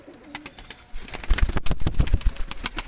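Kasuri pigeons cooing and fluttering nearby, with low rounded coos and sharp wing claps and flaps building into a dense burst of movement.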